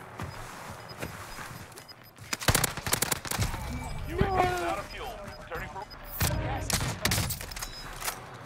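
Rapid bursts of gunfire in a first-person shooter video game, loud cracks in clusters and volleys with a sniper rifle in play, while a player talks over the shots.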